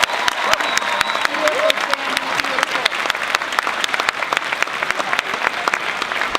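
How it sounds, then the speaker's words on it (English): Steady applause from a graduation ceremony audience, honoring the school's musical ensembles, runs throughout with dense sharp claps and faint crowd murmur underneath. "Please join me in a round of applause for their efforts tonight."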